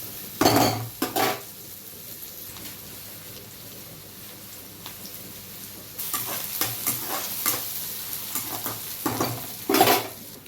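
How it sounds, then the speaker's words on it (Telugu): Thinly sliced onions fry in a pan for a green pea and tomato masala curry, with a sizzle beneath loud clanks and scrapes of a utensil, bunched at the start and again near the end. "సన్నగా ఉల్లిపాయలు వేసుకోవాలి"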